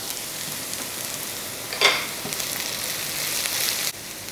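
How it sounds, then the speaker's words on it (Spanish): Onion softens in a pan of hot oil for a sofrito, a steady moderate sizzle with one brief sharper crackle burst midway, heard close with no voices. "Mientras sofrío la cebolla"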